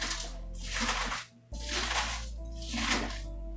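Cabbage crunched and squeezed by hand for sauerkraut, a close, loud crackling and squishing in three broad bursts with a short pause between the first two.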